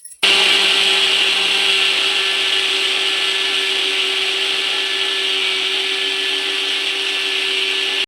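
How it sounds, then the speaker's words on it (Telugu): Mixer grinder grinding foxtail millet into powder, switching on abruptly and running loud and steady with a constant motor whine and gritty whirring for several seconds. "ఇప్పుడు కొరబియ్యం మిక్సీకి పోసినా, మిక్సీలో వేసినా కదా."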